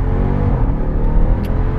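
A Jeep Grand Cherokee Trackhawk runs at full throttle, its engine giving a loud, deep, continuous roar heard close for a couple of seconds.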